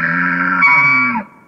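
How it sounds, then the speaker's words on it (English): An elk (Cervus canadensis) gives a single flat howl, a steady nasal, buzzy call held for just over a second with a strong vibrating tone that wavers midway, then cuts off abruptly. "They have a lot of vibration on the throat of the elk."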